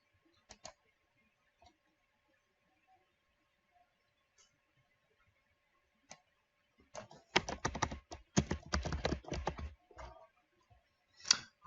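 Sparse single keystrokes on a computer keyboard, then a quick burst of rapid typing, followed by a few more isolated clicks, all close and fairly quiet in an otherwise silent room.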